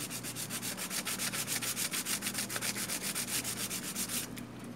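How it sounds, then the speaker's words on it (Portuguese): A roller from an Epson L120 printer is sanded smooth with sandpaper by hand, giving a quick, even run of close, scratchy rubbing strokes that stops just before the end. No one talks. "Depois eu venho com auxílio de uma lixa, só para deixar bem, bem lisinho."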